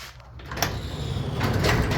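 A manually released residential garage door, counterweighted and moved by hand, gives a steady rolling, rumbling slide that swells toward the end, with a faint rattle partway through.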